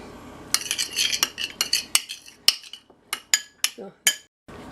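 A utensil clinks and scrapes against a bowl while stirring lemon juice into cake batter for a blueberry swirl cake, with a run of sharp, close metallic taps and clatters.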